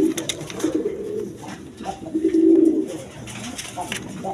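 A pair of American lar pigeons coo near at hand, with several rolling coos rising and falling across the stretch and a faint voice in the background.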